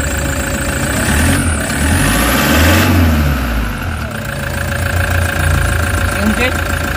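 A Toyota HiAce engine with a vibration, check-engine and low-power fault (code P0400) runs nearby, a loud steady idle whose rumble swells and dips slightly, with a person talking over the engine.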